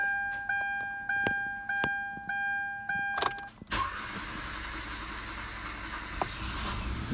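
A Kia with a crankshaft position sensor fault gives a series of evenly spaced dashboard warning chimes, then the starter cranks the engine in one long, continuous grinding stretch lasting several seconds.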